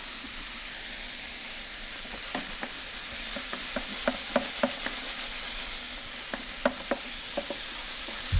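Thawed peas sizzling in a pan, a steady frying hiss with scattered light taps and scrapes of stirring throughout, close and moderately loud with no voices.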